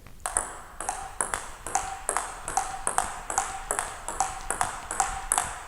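A new plastic table tennis ball bounces in a steady, rapid rally, with roughly fourteen bright, ringing pings alternating between bat and table at an even pace, close and alone.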